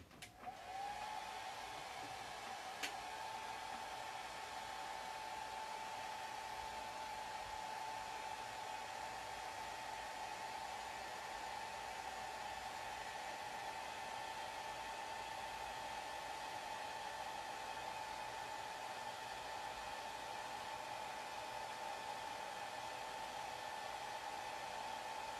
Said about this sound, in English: I'm going to hit him with the hairdryer again,